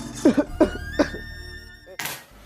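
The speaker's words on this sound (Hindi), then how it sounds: "एक खांसती हुई माँ" A woman coughs in a few short, harsh bursts close to the mic, followed by a brief rustle and a quieter breath.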